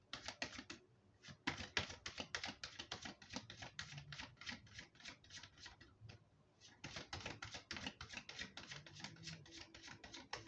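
Dense, rapid clicking and light slapping of tarot cards being riffled and shuffled, continuing steadily with a brief pause midway.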